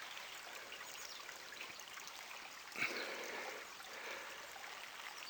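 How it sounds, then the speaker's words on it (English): A small gold-prospecting creek at Blakeburn Creek flows steadily, giving a soft, continuous trickling wash with one brief splash or knock partway through, fairly distant and with no voices. "Oh, look at that little creek."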